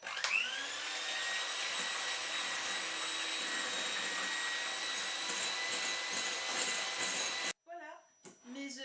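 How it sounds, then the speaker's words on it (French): A Moulinex Easy Max electric mixer whips egg whites until firm for a gluten-free chocolate mousse, giving a loud steady whirr close by that runs unbroken and then cuts off, followed by a brief voice. "je vais battre mes œufs, mes blancs plutôt, jusqu'à ce qu'ils soient complètement bien fermes"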